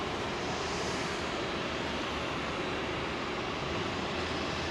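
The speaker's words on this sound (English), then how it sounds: "777-200 with United, which looks to me like she's got GEs." A United Boeing 777-200 airliner with GE engines at London Heathrow runway 27L gives a steady, loud broadband jet roar that holds evenly throughout, with no voices.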